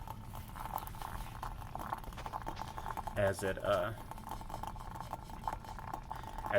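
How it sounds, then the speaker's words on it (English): Salt water boils vigorously on a hot plate, crackling and pattering steadily up close, with a brief spoken voice partway through. "you'll see that this is bubbling pretty hard. You can hear it."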